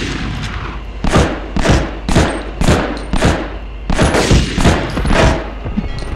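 Rapid bursts of gunfire from the PS1 game Medal of Honor, roughly a dozen loud booming shots in uneven rhythm, some fired in quick pairs, with no talking.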